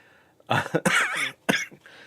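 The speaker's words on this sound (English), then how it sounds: "that laugh and cough kind of caught me at the same time" A person coughs and sputters in a short, rough burst, mixing a laugh-like wheeze with throat-clearing, close and fairly loud.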